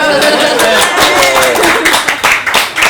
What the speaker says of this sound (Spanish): ¡ya aplausos!